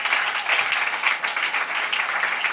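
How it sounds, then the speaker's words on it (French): An audience applauds in a dense, steady wash of clapping that stays loud and even throughout, with no voices standing out. "Tu peux acclamer pour la connaissance."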